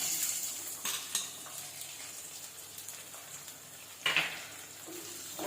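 Chopped onion sautéing in a pan with hot oil while cooking a vada curry, giving a soft, steady sizzle with a few clinks of a utensil against the pan.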